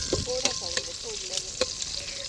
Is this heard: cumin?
yes